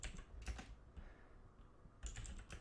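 Fast typing on a computer keyboard comes in quick, quiet clusters of clicks, with a short lull in the middle before another burst, and no speech.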